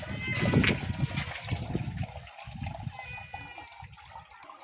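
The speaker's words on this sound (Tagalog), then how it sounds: "Ken, lagyan mo konting tubig pa Ken oh." Water splashing and pouring into a cooking pot of shellfish soup, a brief burst of liquid followed by gurgling, with people chatting nearby.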